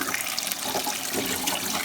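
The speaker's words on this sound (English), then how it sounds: "I just rinsed everything, even under this little ring here" Running tap water pours steadily over humidifier parts being rinsed at a sink, a continuous, close splashing rush with no pauses and no voices.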